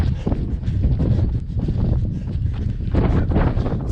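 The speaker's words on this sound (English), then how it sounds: "It's really windy coming into the Cone Pass. I'm sure you can hear it." Steady, loud wind buffeting the microphone with low rumbling gusts throughout on Cone Pass along the Pacific Crest Trail, no voices.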